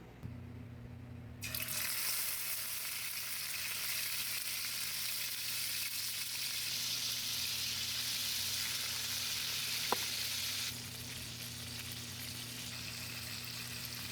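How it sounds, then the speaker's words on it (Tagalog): Steady loud sizzling of chicken frying in a hot pan, starting abruptly and continuing for several seconds before dropping back to a quieter hiss. "Ngayon ipiprito natin siya ng konti"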